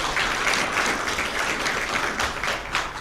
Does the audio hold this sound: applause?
yes